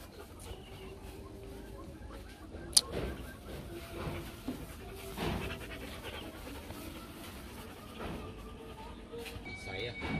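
Rottweilers pant at a kennel, soft rhythmic breathing close by, with a sharp knock and other faint yard sounds around it. Someone talks over much of it.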